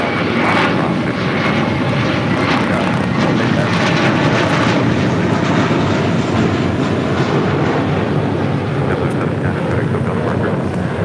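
A Delta airliner landing on runway 25 left at LAX gives off a continuous, loud jet engine roar that holds steady throughout with no breaks.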